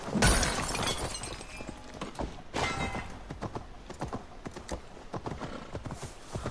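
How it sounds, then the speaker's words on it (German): Horse hooves clip-clopping at a steady riding pace in the video game Assassin's Creed Valhalla, with a sharp crash-like burst near the start and no talk over the rhythmic footfalls. "So, ich werde jetzt wieder reiten."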